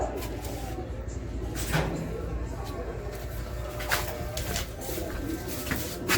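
At a racing pigeon loft during a derby, a homing pigeon arrives amid faint cooing, wing flutters and clattering knocks of the loft trap and doors, with soft outdoor background noise throughout.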